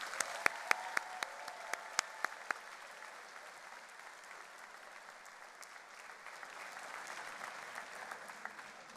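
A convocation audience applauds for a graduating class, a soft, steady patter of many hands with a few sharper individual claps standing out early, fairly distant and quiet.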